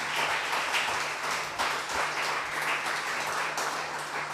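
Audience applause for interpreters at a 2022 European IOI conference, a steady wash of clapping that holds at moderate level throughout with a faint low hum underneath.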